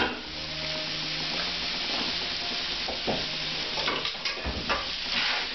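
Shrimp and garlic sizzle in a pan while being stirred for a spicy shrimp broth, a steady close frying hiss broken by a few scrapes and utensil clicks.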